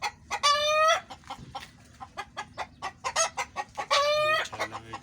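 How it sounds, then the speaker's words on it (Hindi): Desi chickens on a small village poultry farm cluck in quick repeated bursts, with a couple of louder drawn-out squawks rising above the close, busy chatter of the flock. "देखो मुर्गियाँ हैं बड़े अच्छे वाले और फर्स्ट क्लास"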